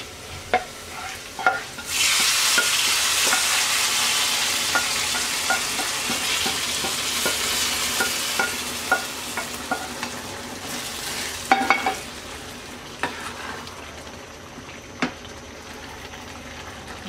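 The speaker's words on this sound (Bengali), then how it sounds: "পেঁয়াজ রসুন ভাজা হয়ে গেছে, এবার আমরা ডাউলে ঢেলে দিচ্ছি।" Browned fried onion and garlic poured into cooking moong dal with vegetables set off a loud, sustained sizzle that gradually fades, with a few sharp stirring clinks and spoon knocks scattered throughout; no one speaks.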